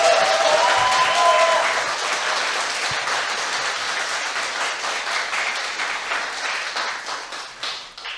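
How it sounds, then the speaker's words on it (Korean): Studio audience applause on a talk show, a dense round of clapping from many hands that starts strong, tapers gradually and fades near the end, with a brief voice early on. "박수!"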